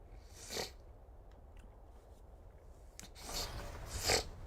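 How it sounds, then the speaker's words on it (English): Nasal sniffling from someone playing Mass Effect: one short sniff early on, then a louder, longer pair of sniffs near the end, close to the mic over a quiet background. "Sorry for all the sniffling"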